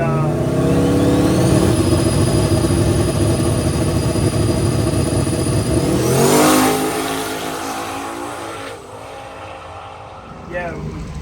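A small tire drag race car makes a full pass at a drag strip, its engine roaring loud and steady for several seconds before dropping off and fading into the distance, with a brief sharp burst near the end.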